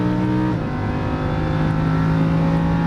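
A Lamborghini Huracan race car engine revs hard under squeezed throttle, with a loud sustained whine that climbs steadily, then changes pitch abruptly at an upshift before building again, close and continuous with no voices.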